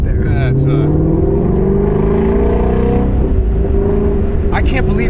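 A sports car with its stock exhaust holds a loud, rising engine roar that climbs in pitch and then drops away, with faint voices in the background.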